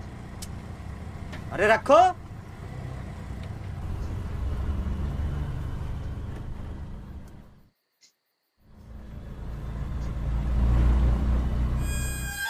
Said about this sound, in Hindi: अभी गाड़ी चला रहे हैं